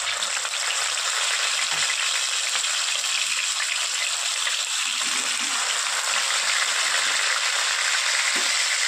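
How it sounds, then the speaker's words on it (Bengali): Swarputi fish frying in very hot oil, a loud, dense, continuous sizzle with steady spitting crackle that stays even throughout, no voices over it. "তেলটা খুব ভালো করে গরম হয়ে গিয়েছে, এবার চলুন মাছগুলো ভেজে নিই।"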